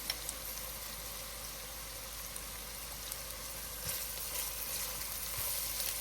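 Garlic dropped into onions already softened in a pot for New England clam chowder, a faint, steady sizzle with scattered soft ticks and pops.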